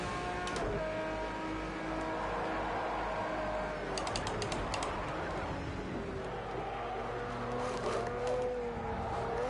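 A race car engine at Le Mans drones steadily with shifting revs throughout, rising and falling in pitch as the car runs, with brief high-pitched bursts, no talking.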